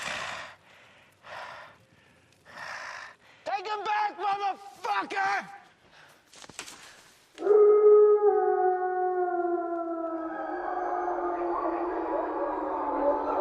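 Wolves howling in an action film: after some breathy snorts and gasps, long overlapping howls rise and hold at moderate loudness, layered as several animals join in.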